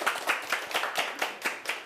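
A lecture audience claps in a quick, steady rhythm of about eight distinct hand claps. The sound is fairly close and moderately loud, with no talking over it.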